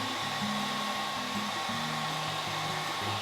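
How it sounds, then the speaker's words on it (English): A blow dryer runs continuously at the roots of long hair, giving a steady, close, full-bodied whoosh with a faint low hum that shifts slightly as the dryer moves. "I also blow dry underneath at my roots so that my roots have a little bit more volume."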